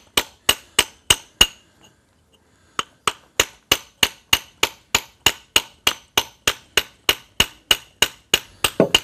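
Sharp metallic strikes of metal hammers ring out one after another in a steady rhythm, a brief pause after the first few, then a long even run of clinks.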